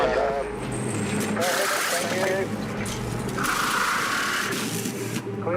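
A rattle gun spinning off a wheel during a Supercars race pit stop: two short, high whirring bursts, the second longer, buzzing beneath steady commentary and car noise.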